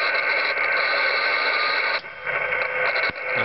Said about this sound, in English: There is the man-made noise that I get on my hand-fed half-wave wire off the tower.